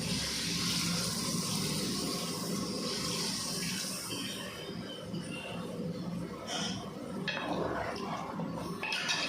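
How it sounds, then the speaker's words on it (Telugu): Water gushes and splashes steadily into a pot of goat head curry for several seconds, then tapers into a lighter trickle and stirring noises. "ఇప్పుడు మనం ఇందులో కర్రీకి సరిపడా ఎసరిని యాడ్ చేసుకుందాం"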